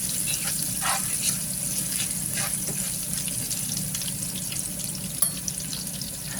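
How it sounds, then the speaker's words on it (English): Six garlic cloves sizzle in a hot pan while being stirred, a steady close crackle of frying with occasional scraping and clinks of the utensil. "so first I'm going to add my garlic, and I'm using about 6 cloves of garlic. Just gonna give that a stir."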